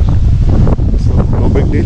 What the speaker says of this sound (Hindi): लकीली मौसम बहुत अच्छा है, हवा चल रही है प्यारी